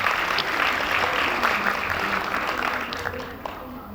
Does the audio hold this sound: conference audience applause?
yes